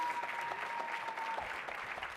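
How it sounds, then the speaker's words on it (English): An audience applauds panelists at a workshop session on planning events, the clapping a thick, continuous patter from a roomful of people, steady and moderately loud for the whole stretch. "Let's give them another round of applause."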